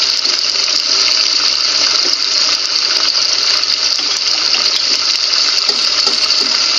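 Water pours steadily into a pot of chicken handi with a loud, continuous gushing splash that barely changes from start to finish.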